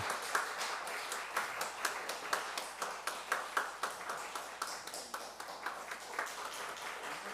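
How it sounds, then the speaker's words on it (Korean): A church congregation applauding during a Sunday worship service after a baptism, sustained steady clapping from many hands filling the room, moderately distant and continuous with no talk. "박수로 우리 환영해 주시기를 바랍니다."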